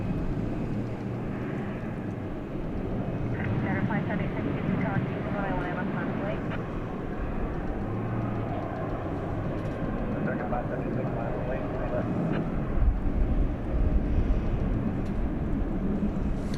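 American Airlines jet airliner in retro livery at DFW Airport at night, a steady distant engine rumble and hiss running under continuous talk.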